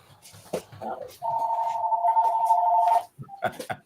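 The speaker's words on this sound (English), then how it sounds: "Oops, that is a phone." A telephone rings during an interview, a steady electronic two-tone ring lasting about two seconds, fairly close, with people talking before and after it.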